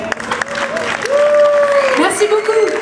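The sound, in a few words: audience applause at a show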